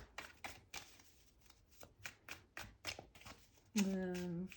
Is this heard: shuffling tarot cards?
yes